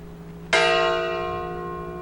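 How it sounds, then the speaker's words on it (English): A single loud church bell strike rings out and decays slowly, its bright overtones lingering after a quiet lead-in. "church bells rang 26 times for the Holy Father's 26 years of service as Pope"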